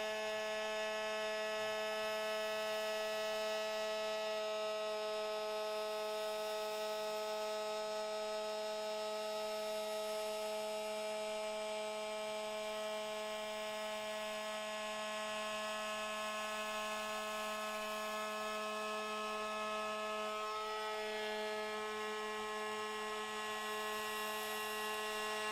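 A CNC machine cuts 45-degree chamfers along the edges and countersinks screw holes in a machined part, giving a steady, loud, high tonal whine with layered harmonics that runs unbroken throughout.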